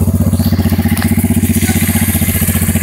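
A quad bike engine runs at a steady pace on a thumb throttle, a loud close rhythmic putter with an even pulsing beat and no surges.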